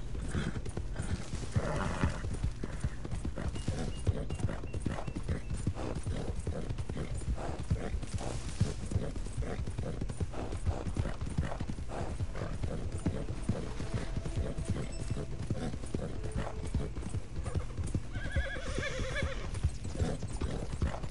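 A horse in Red Dead Redemption 2 trots with steady rhythmic clip-clopping hooves, occasional whinnies breaking through, alongside faint mechanical clicks, moderately close and without talk.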